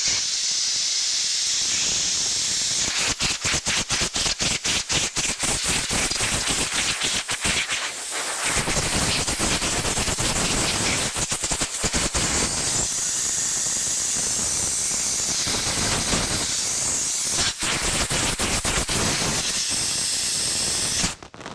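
Rinsed Aeroquip hose line being sprayed off in a long, loud, steady hissing blast, broken by brief rapid sputters and a few short pauses.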